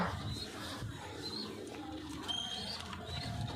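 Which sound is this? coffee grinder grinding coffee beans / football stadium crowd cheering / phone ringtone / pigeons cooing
pigeons cooing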